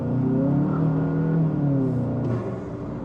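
A VW GLI engine fitted with an APR PEX intake revs steadily up and down, a loud, close, throaty drone that eases off toward the end, with no talk.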